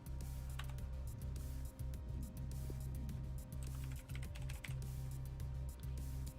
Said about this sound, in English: Why did I think just typing in Murillo was going to be